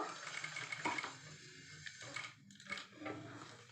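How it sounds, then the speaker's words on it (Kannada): A sewing machine stitching along the edge of a cut work blouse, a close rapid mechanical whirring and clatter in short runs with brief stops, fairly quiet. "ಕ್ಲಾತ್ನ ಆ ಹೆಡ್ಜಿಗೆ ಕರೆಕ್ಟಾಗಿ ಹೊಲಿಗೆ ಹಾಕೊಳ್ತಾ ಬರಬೇಕು"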